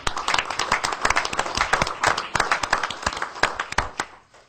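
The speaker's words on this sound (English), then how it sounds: "I'd like everybody here to give him a round of applause for that" A crowd gives a warm round of applause for a Martin Luther King Award recipient, dense clapping steady for about four seconds and then tapering off.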